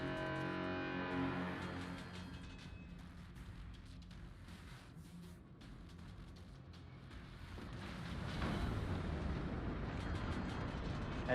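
Enemy warship cannon fire in a naval combat game: heavy booming blasts roll over a dense, continuous low rumble, loud throughout and swelling louder near the end, with no talking.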